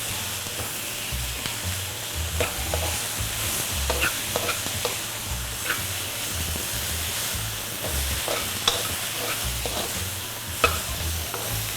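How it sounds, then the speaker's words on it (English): Peppers for veg lo mein sizzling loudly in a wok as they are stirred, a dense continuous frying hiss over rhythmic low scraping of the utensil against the pan, close up with no voices. "finally I add my peppers. And I stir a little more."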